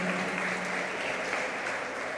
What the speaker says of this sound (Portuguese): Vamos dar uma linda salva de palmas pela vida delas